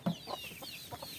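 Domestic rooster on a small backyard chicken farm giving a few short, soft clucks spaced across a brief moment, heard close but fairly faint with no talk.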